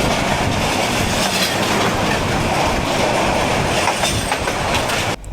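Tista Express passenger train heard from inside a Chinese-built coach, a loud steady roar of rolling wheels with rhythmic clickety-clack over rail joints, continuous throughout and ending abruptly.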